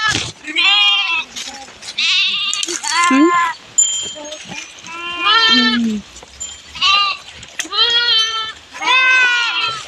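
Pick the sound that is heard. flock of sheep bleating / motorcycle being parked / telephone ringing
flock of sheep bleating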